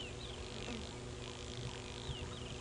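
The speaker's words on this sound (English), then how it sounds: "the loud drone of a spider hunting wasp" Spider hunting wasp flying outdoors on a game reserve safari drive, producing a faint, continuous buzzing drone under steady ambient noise.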